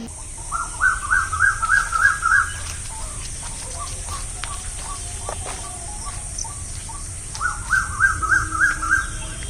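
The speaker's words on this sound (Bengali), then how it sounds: "কি সুন্দর একটা নতুন পাখির আওয়াজ শুনতে পাচ্ছ?" A bird calls in the morning outdoors: two clear bursts of quick, repeated high notes, one near the start and one near the end, with a quieter stretch of faint background chirps between them.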